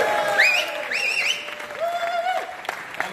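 Sustained clapping from a conference crowd at a Malta summit, steady applause with shrill whistles rising and falling above it.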